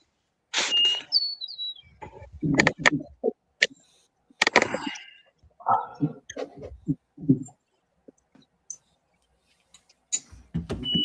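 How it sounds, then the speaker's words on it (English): Birds chirp outdoors in a lightly windy spot, in scattered short, sharp calls with quiet gaps between them, some close and some fainter. "Probably the birds would be buzzing louder than the wind now"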